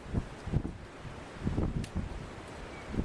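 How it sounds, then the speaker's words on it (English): Wind buffets a microphone outdoors, producing loud, uneven low rumbling gusts that swell and fade in bursts across the whole stretch. "The wind's blowing into here, and I knew it would be when I got here."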